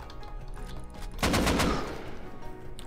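A burst of AK rifle fire in the Rust survival video game: one short rapid volley of loud close shots lasting about half a second, set against quieter game ambience.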